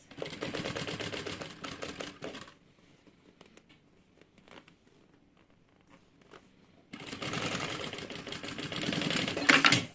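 A sewing machine stitches a seam on a toiletry bag in two fast, whirring bursts, one of about two seconds and one of about three, separated by a quiet pause of several seconds.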